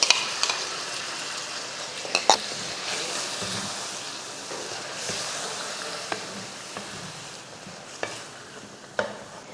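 Water is stirred into chicken gravy in a pan, a continuous sizzling, bubbling hiss with a few sharp scraping clinks of a utensil against the pan, no speech.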